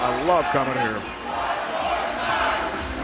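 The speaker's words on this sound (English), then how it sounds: "there's no way we can talk above the crowd. Raucous environment." Raucous crowd at a PBA Elias Cup bowling quarterfinal between the New York Kingpins and Waco Wonders roars loudly as a continuous wash of cheering, with a commentator speaking over it at first.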